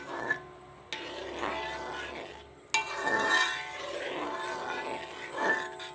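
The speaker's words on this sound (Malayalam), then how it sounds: "കട്ട പിടിക്കാതെ തുടർച്ചയായിട്ട് ഇളക്കി" A spoon stirs thickening green papaya halwa in a pan continuously, giving soft scraping and sticky swishing sounds with a couple of sharper clinks against the pan, fairly close and moderately quiet.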